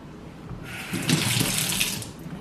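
Tap water runs into a kitchen sink while fruit is rinsed, a steady splashing flow that swells louder midway through and carries on alone without any talk.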